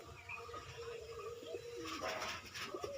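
Closed-tail pigeons in a home loft give soft, low cooing calls that run steadily throughout, with a fuller burst of fluttering noise near the end; no one speaks.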